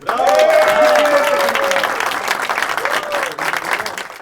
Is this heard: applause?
yes